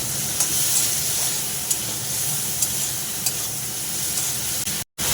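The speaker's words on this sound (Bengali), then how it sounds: "চিংড়ি মাছগুলো ভালো করে ভেজে তুলে নেব।" Shrimp sizzle in hot oil in a wok as a utensil stirs them, giving a constant loud frying hiss broken by occasional scraping clicks.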